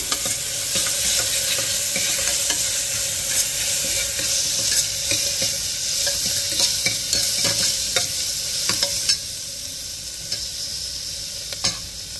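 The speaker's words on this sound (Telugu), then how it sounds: "టమాటా వేసుకున్నాక 2 మినిట్స్ వేగనివ్వండి" Onions, ginger-garlic paste and tomato fry in hot oil for mutton paya soup, a continuous close sizzle punctuated by scraping stirs and ladle clinks throughout.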